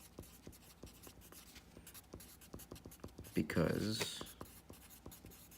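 A pen writes out a physics equation, steady rhythmic scratching strokes close up while a voice speaks softly over part of it.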